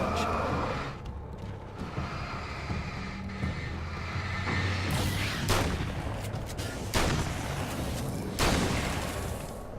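Gunfire in the video game Alan Wake's American Nightmare: a few sharp, loud shots crack out over dense, rumbling in-game ambience, spaced irregularly through the second half.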